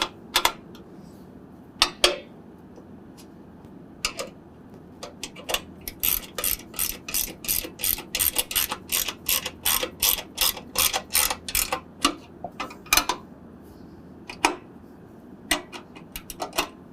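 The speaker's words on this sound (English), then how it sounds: "we can go ahead and tighten everything down. It's a 13 millimeter wrench on the top and bottom." A 13 mm ratchet wrench tightens bolts on a tubular light duty front bumper, sharp clicking bursts in quick runs separated by short pauses, close and clear.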